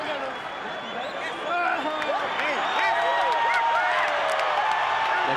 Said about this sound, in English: The crowd supporting Marco Antonio Barrera